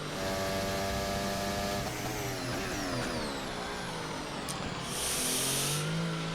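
F1 car in the F1 2024 video game braking hard and downshifting around the Canadian GP circuit, a loud continuous engine whine with falling and shifting pitch as gears drop, heard alone without talk.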